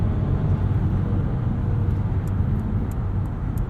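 Steady low rumble of a 2021 Mercedes-Benz S580 4MATIC's 4-liter V8 with mild hybrid, heard from inside while driving, smooth and even with road noise blended in, no voices.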